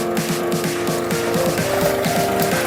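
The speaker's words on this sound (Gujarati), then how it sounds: "આ રીતે ટ્રેક્ટર દ્વારા ખેડવામાં આવે છે" A tractor ploughing a farm field before maize sowing, its engine droning loudly and close with a steady, rhythmic pulsing throb that runs throughout, and no speech.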